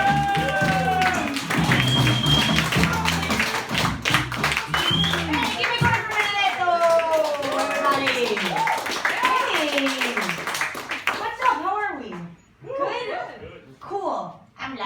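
Comedy club audience claps and cheers as a comedian is introduced, loud clapping and whoops mixed with a host's amplified voice and scattered laughter.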